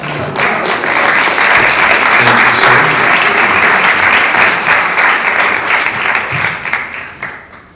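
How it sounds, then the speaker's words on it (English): A film festival Q&A audience in Boston breaks into loud, sustained applause, a dense wash of clapping that holds steady for several seconds before thinning out toward the end. "So I think you deserve a good round of applause"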